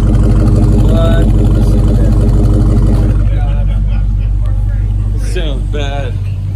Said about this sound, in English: Look at that, dual exhaust, blood.